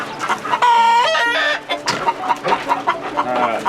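Chickens cluck densely in a coop, close and loud, with one long drawn-out crowing or squawking call standing out early among the steady chatter of many birds.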